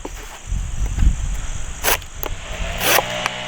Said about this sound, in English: Here it is cutting a piece of a box.